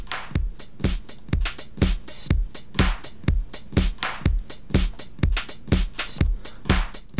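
Electronic music drum sample loop with a punchy kick and bright hits repeating in a steady, even rhythm throughout, loud and alone with no voices.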